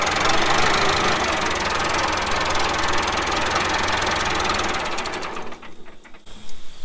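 A backhoe engine with a loose throttle linkage idles steadily and loudly without revving up, a continuous knocking diesel chug that fades and turns uneven near the end.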